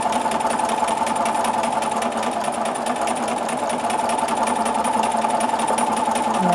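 Sewing machine stitching a grid-based puzzle-piece quilting design, a steady fast buzzing hum that runs continuously and fairly loud with no pauses or talk.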